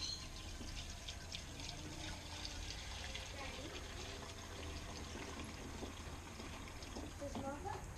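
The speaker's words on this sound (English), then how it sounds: "Always a smart idea to put a little bit of fuel back into your tank as well" Fuel poured into a small engine's carburettor bowl and tank, a steady continuous liquid trickle and splash heard close up throughout.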